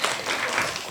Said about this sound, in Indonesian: berikan tepuk tangan untuk pertanyaannya Bu Mariani.